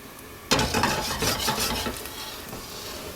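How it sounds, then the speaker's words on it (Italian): Olive oil hits a hot pan to start a soffritto, giving a sudden loud burst of sizzling and clatter that settles into a steady, fading crackle. "olio extravergine di oliva sul fondo e cominciamo il soffritto"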